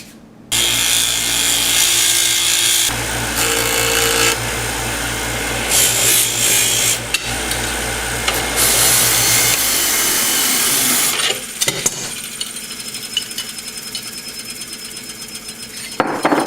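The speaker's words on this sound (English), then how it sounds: "I'm gonna grind away the head of that pin so that I can pull this thing apart." An angle grinder cuts away the head of a steel pin on a Ludwig Speed King drum pedal, giving a loud, continuous, harsh scraping roar for about ten seconds before it stops, followed by quieter handling noises.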